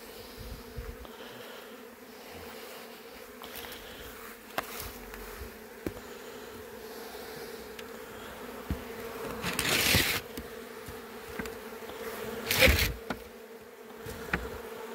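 Honeybee swarm leaving the hive in the evening, a steady insect hum running throughout with a couple of louder buzzing swells as bees pass close, no talk.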